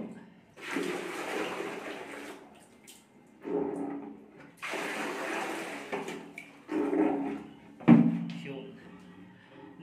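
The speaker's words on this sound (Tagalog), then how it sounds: "buhusan natin siyang tubig para bumaba yung level ng kanyang water" Water poured by hand into a toilet bowl during bathroom cleaning, heard as several separate gushing, splashing bursts with quieter pauses between them, close by and moderately loud.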